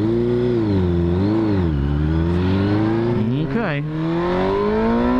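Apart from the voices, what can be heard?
Suzuki GSXR 600 motorcycle engine revving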